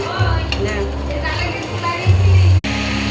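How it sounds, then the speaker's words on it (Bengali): Chickpeas frying in a pan with cumin, stirred with a spoon, giving a soft sizzle with scraping and clinking strokes while a person talks over it. "ছোলাটা আমি হালকা করে ভেজে নিচ্ছি"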